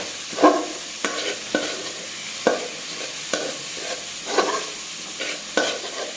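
Carrot and onion sautéed in a pan for a chicken egg roll filling sizzle steadily while a spatula scrapes and stirs in regular strokes about every second, close up with no talking.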